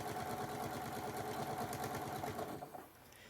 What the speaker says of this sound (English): I take one of the blocks from the center pile and place it on top, and I sew that together.